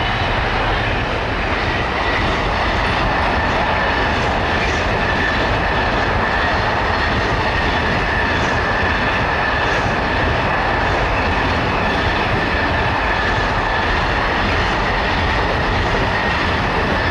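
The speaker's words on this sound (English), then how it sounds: "when you see a train flying by" A train roars past close by, a loud steady rush of rumbling wheels and wind noise that holds strong throughout with no voices.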